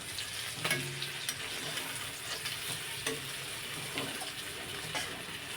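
Prawns and taro stolons sizzle steadily in a pan, with scraping stir-and-turn sounds and occasional sharp spatter pops over the constant frying hiss.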